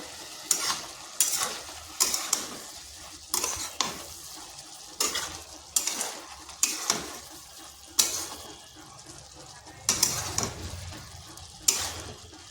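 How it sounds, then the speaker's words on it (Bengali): Bottle gourd cooking in a pan is stirred in a series of sharp, regular scraping strokes roughly every second, heard up close over a soft background simmer with no talk. "মাঝে মাঝে এইভাবে ঢাকা তুলে করে লাউটাকে নেড়ে নিতে হবে"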